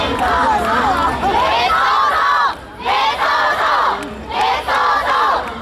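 A festival countdown concert crowd roars and shouts like boxing fans, loud waves of cheering that surge, dip briefly, and surge again twice more.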